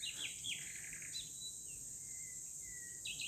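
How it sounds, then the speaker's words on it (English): Birds sing at dawn beside a creek with hedges, giving bright, high chirps and short whistled phrases in a few scattered bursts over a steady background of faint insect hiss; quiet and fairly distant. "Birds string the first bright notes across the hedges."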